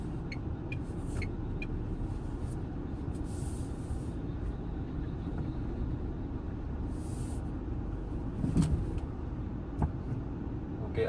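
A Tata Altroz 2025 DCA automatic hatchback drives over a rough, damaged road, heard from inside the cabin as a steady low rumble of road and tyre noise, with a sharper thump from a bump late on.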